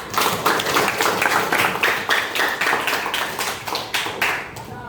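Classroom applause at a high school lesson, many hands clapping together in a dense, steady burst that carries loudly throughout with a slight fade near the end.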